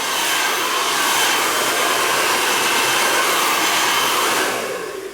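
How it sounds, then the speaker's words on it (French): A hair dryer set to medium heat blows steadily while warming the rim of a salad bowl just out of the freezer, a loud continuous broadband whoosh that fades slightly at the very end. "Soit vous prenez donc un séchoir et vous le mettez donc sur la position donc chaleur moyenne et vous passez sur le contour."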